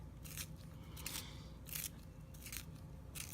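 A handheld sharpener shaves a drawing pencil in short, quiet bursts of dry scraping and crunching, about five strokes spaced roughly evenly over a faint background hiss.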